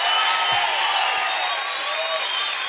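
A live comedy-show audience applauds and cheers for the sound engineer, dense sustained clapping with crowd noise filling the room at steady loudness throughout, no clear talk over it.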